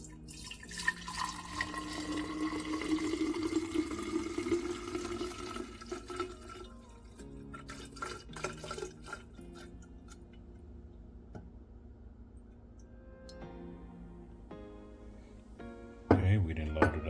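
Whiskey pours into a Bartesian Duet canister in a thin, gurgling stream whose pitch climbs as it fills, followed by small clicks and drips while a person talks nearby.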